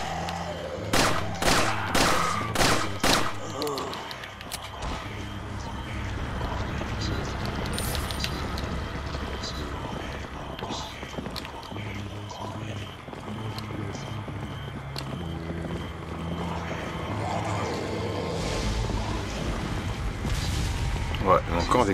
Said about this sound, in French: Encore des canons, ça le problème.